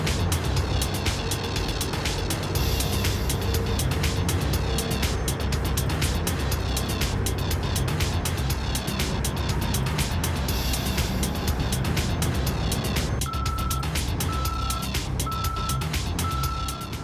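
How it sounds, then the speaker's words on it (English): Komatsu autonomous haul dump trucks driving between loading and dumping points at a mine, a loud continuous engine rumble throughout, with a steady series of evenly spaced reversing beeps coming in near the end. "Trucks are able to drive between loading and dumping locations without requiring any human input."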